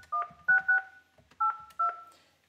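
Keypad tones from a Fanvil X6 desk phone dialing a number on a 3CX system: five short, crisp dual-tone beeps in an uneven rhythm, close and clear against a quiet background.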